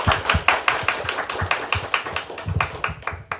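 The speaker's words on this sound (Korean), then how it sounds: "큰 박수 부탁드립니다." A lecture audience at a civic participation education results presentation claps for the lecturer. Distinct, crisp individual claps come in a loose, fairly sparse rhythm that sounds like a modest group, close and clear.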